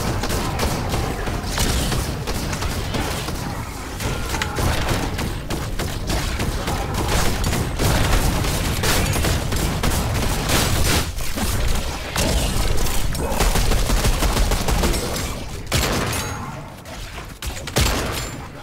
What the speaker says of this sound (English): A drum shotgun.